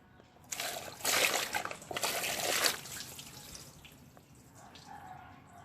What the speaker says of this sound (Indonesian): Perangkat alarm modulnya ini saya siram dengan air.